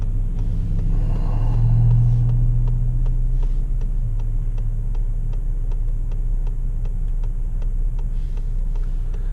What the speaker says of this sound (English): we're going to put it in sport mode, see if we can hear that engine note